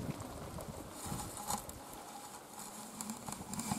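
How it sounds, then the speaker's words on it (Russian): Light rain begins to patter outdoors at a rural forest hut during haymaking, a soft dense crackle of drops that stays fairly even and close, with no talking. "Это нехорошо, когда начинается дождь."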